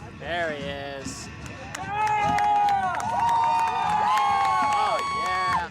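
Spectators at a jousting tournament cheer for the champion Titus with high, drawn-out whoops and shouts over a steady wash of crowd noise that swells and holds at full volume.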